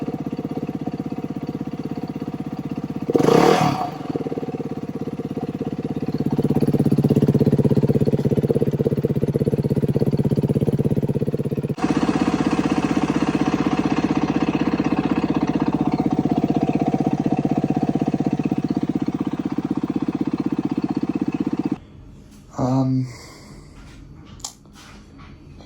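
A Beta 390 dirt bike engine under rebuild starts with a sharp burst, settles into a steady idle and revs for several seconds, then cuts off, followed by a few brief knocks, all close up in a quiet workshop.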